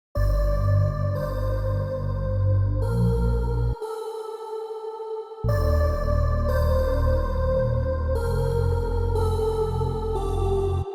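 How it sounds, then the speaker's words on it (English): A reverb tail trailing from a short vocal phrase: sustained, washed-out harmonic layers hold in steady blocks, with a brief drop to a thinner tone midway before the full wash returns. "So that is literally a reverb tail being played, and that reverb tail comes from this little vocal we got here."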